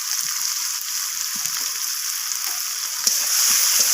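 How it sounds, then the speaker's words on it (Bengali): Onion and tomato fry in a pan with turmeric and red chilli powder, a soft continuous sizzle with light stirring clicks and taps, nearby and unaccompanied by speech. "তো সমস্ত কিছু মশলা এইভাবে নাড়াচাড়া করে একটু আমি পেঁয়াজের সাথে ভেজে নিচ্ছি"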